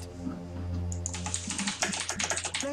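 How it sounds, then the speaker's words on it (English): Rapid clicking of computer keyboard keys, irregular and close, building into a busier burst of keystrokes over a low steady hum, with no one speaking. "Oh, I can hear you typing."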